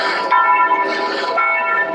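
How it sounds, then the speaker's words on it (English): Church bells in Lourdes ring out for 11 o'clock in a sustained, overlapping peal, bright and resonant, heard from a moderate distance with no talking. "Oh, there go the bells."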